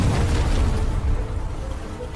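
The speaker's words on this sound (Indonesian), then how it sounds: "Serangan yang sangat kuat dilemparkan oleh Patria Kuli kepada Peng Hao dan terjadi ledakan di sana." A powerful attack in an animated martial arts story sets off a blast, a loud, dense rumbling boom that rolls on steadily without a clear break.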